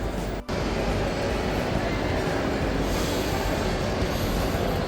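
A train ride rolling through a large shopping mall, a steady loud rumble of wheels and carriages with faint squealing, continuous for several seconds without a break.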